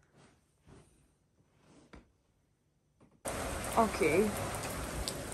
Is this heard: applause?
no